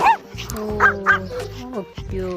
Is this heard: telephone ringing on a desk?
no